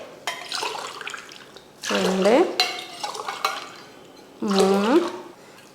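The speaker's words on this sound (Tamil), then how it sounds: "தண்ணி சேர்த்துடலாம்" Water is poured over rice in a cooking pot, a splashing, trickling wash that comes and goes while a voice speaks over it twice.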